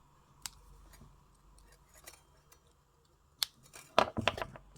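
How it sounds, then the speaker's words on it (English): Small cutters snip fine weaving wire for a small frame bead pendant, a few sharp clicks spaced apart, then a quick cluster of close snips and handling near the end. "So then we'll cut that weaving wire at both ends and press the little cut ends down."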